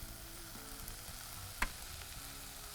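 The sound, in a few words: greens sautéing in a pan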